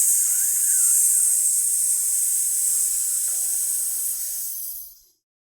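Group voices sustain a long hissing S, imitating the sizzle of a fire during a team meditation, steady and breathy for about five seconds before fading out.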